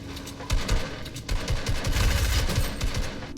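Rapid SMG bursts crack out in a competitive cash cup video game match, several short volleys close and loud, mixed with scuffing building and editing noises.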